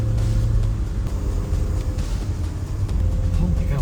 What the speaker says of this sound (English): we are literally rally driving back up the mountain